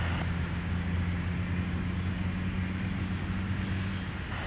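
An Air Canada Boeing 777-300ER taking off from runway 05 at Toronto Pearson Airport gives a loud, continuous, broad jet-engine roar with a low steady drone, sustained without a break.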